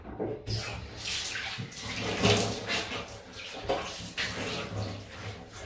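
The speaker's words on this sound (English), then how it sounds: "Just going to duck down, do the cold rinse splash." Cold water splashes and sloshes close by in quick irregular bursts, like hands scooping and rinsing a face under running water during shaving.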